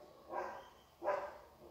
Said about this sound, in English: who is that dog barking now?